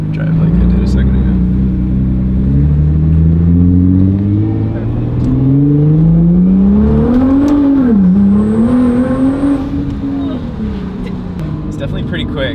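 An older Nissan GTR sports car driving, its engine droning steadily and rising in pitch as it accelerates through gears, loud and close from inside the cabin with no talk.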